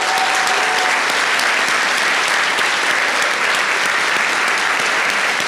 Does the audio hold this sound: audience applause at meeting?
yes